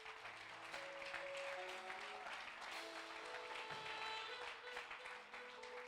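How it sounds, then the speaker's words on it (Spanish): A church congregation claps during a sermon, a quiet but continuous patter of many hands over sustained music notes playing underneath. "Dele un aplauso al Señor"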